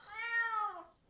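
A kitten meows in the Sonic Boom video game, a single clear, rising-then-falling mew lasting under a second, close and alone with no talk.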